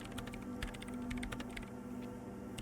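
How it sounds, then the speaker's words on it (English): Rapid typing on a computer keyboard in the video game Disco Elysium, steady clattering keystrokes over a constant low electrical hum, close and continuous with no voices. "Her hands typing hundreds of commands into the machine."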